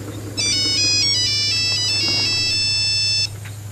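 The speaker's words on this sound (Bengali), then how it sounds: "ওকে প্লিজ ফোনটা ধরো, নিশ্চয়ই ইম্পর্টেন্ট ফোন কর।" A mobile phone ringtone plays a bright electronic melody of repeated high beeping notes for about three seconds over a low steady hum, then stops.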